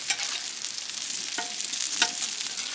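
Bacon frying on a griddle on an RV camping trip, a steady close crackling sizzle with a few brief scrapes.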